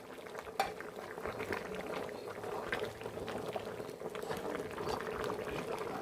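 Korean braised beef short ribs with shiitake mushrooms, radish and carrot bubble over medium heat, a steady low simmer with occasional light clinks of a utensil against the pot.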